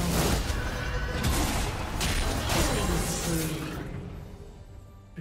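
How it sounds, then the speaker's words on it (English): A turret collapsing in League of Legends, a dense burst of rumbling crashes and debris that stays loud for several seconds, then fades out. "Blue team's turret has been destroyed."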